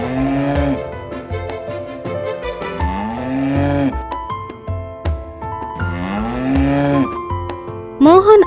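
A recovering buffalo lows several times in loud, close, drawn-out calls that rise and fall in pitch, ending with a sharper, higher cry.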